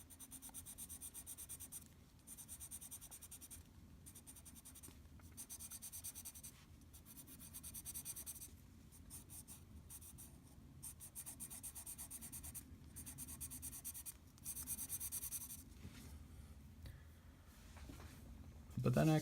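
Colored pencil scratching and rubbing across paper as blue is layered over red in a flower drawing, a steady soft scraping in repeated strokes with brief pauses, close and fairly quiet.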